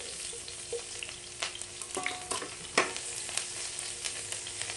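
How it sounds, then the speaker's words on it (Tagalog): Onion and ginger sizzling in a hot pan for ginataang dabong, coconut-milk bamboo shoots with shrimp, with steady frying hiss and a few sharper stirring scrapes and clinks near the mic, no talking. "Then onion. Yung ating"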